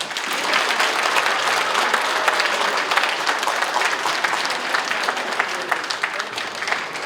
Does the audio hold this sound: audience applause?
yes